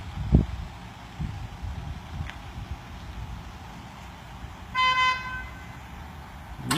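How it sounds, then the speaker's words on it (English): One brief horn honk from a FedEx delivery truck sounds from a distance over faint wind and road noise. "You can probably hear FedEx in the background there honking their horns."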